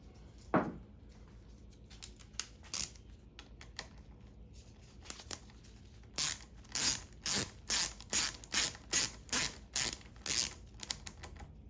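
A hand ratchet tightens a banjo bolt on a Yamaha SR500 front brake caliper: a few scattered clicks, then a quick even series of sharp ratcheting bursts, close and loud, with no voices.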